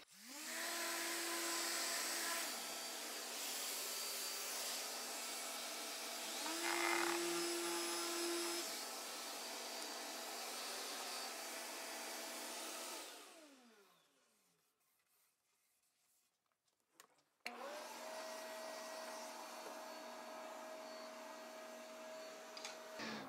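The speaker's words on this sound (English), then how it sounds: "When you're sanding a door with the equipment I've got set up, it should be very quick." A power sander whirs steadily with rising and falling pitch as it sands a cabinet door, stops briefly into near silence, then starts up again.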